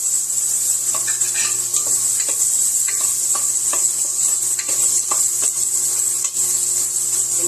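Onion and ginger sautéing in a pan, with a constant soft sizzle and the intermittent scrape and tap of a stirring utensil, close and steady with no talking.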